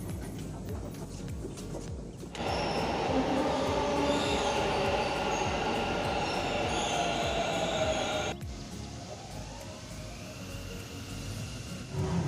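Inside a moving metro train, steady rumbling wheel and motor noise runs throughout, swelling louder in the middle section as the carriage speeds up, then easing back down toward the end; no voices stand out.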